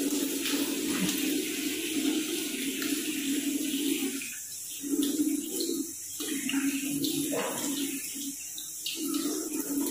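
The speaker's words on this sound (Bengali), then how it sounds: "বলক মই মুখখন ধুই লওঁ।" Running water splashes continuously while someone washes their face at home during a papaya facial routine, a steady close wash with brief dips as hands cup and splash.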